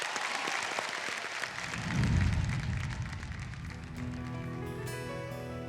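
Clapping from a studio audience on a televised singing competition, a dense patter of hands that swells briefly and then thins out, giving way to soft music tones.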